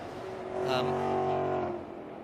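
Street-legal, limited-edition Ford GT3-based race car with a full wide body kit, its engine rising to a strong, loud drone and easing slightly, heard over track ambience with voices in the background.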